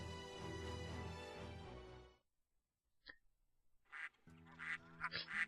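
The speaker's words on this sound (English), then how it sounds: "And suddenly ducks!" Ducks in the video game Baten Kaitos Origins quack in a quick irregular series of nasal calls near the end, following a music passage that cuts to near silence.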